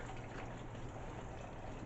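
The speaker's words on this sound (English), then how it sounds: "To it, I'm going to add 2 containers of chicken broth" Two containers of chicken broth pour into a gumbo pot of sweated-down vegetables, a continuous soft gushing fill with no voices.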